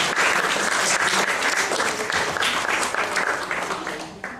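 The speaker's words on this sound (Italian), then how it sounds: "al quale va il nostro primo applauso" Audience applause at a cultural book event, dense sustained clapping from a crowd, close and loud, tapering off at the very end.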